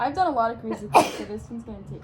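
A single sharp sneeze bursts out mid-sentence, loud and close, cutting through a woman's ongoing speech before the talking resumes.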